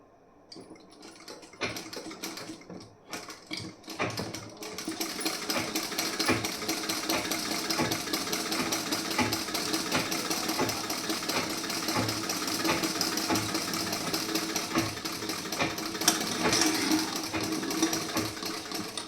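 Sewing machine running steadily while stitching the seam of a pieced blouse, a continuous close whirring hum that starts after a few scattered clicks and handling noises, then runs without a break.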